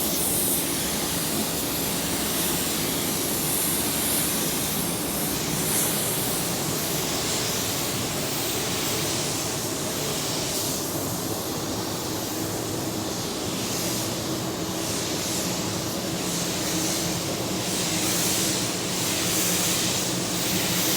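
Continuous broadband spray hiss of a paint gun applying a blender coat on a car door, running steadily throughout, loud and close, with no talking.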